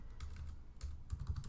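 Quiet, close computer keyboard typing in short bursts of soft key clicks over about a second and a half, with no speech.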